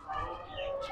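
Soft pigeon coos mixed with bird calls amid the steady hum of a busy Sunday bird market in Hyderabad, with voices murmuring in the background.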